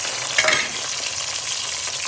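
Sliced onions frying in hot oil with cloves, black cardamom and star anise, a steady close sizzle with a brief louder crackle as they hit the pan, then even frying.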